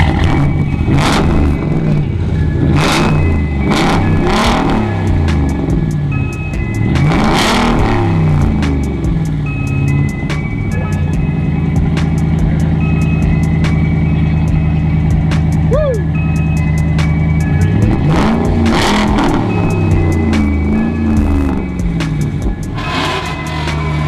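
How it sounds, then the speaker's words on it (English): A car fitted with a Flowmaster exhaust revs loudly and continuously, its deep rumble rising and falling in several throttle blips, with voices faintly underneath. "I like the exhaust the way it is right now."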